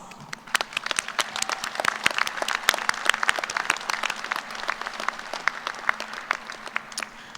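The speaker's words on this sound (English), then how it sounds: "let's take this time to acknowledge those who have supported you in your pursuit and completion of your degree with a round of applause" A crowd at a graduate school commencement ceremony claps in sustained applause, many hands beating in a dense, steady patter that carries on without pause.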